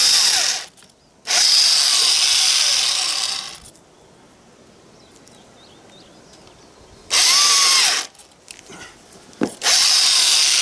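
Power drill boring a 30 mm bit through a wooden board in a workshop, with three loud sustained bursts of whining drilling separated by quiet pauses and a brief click.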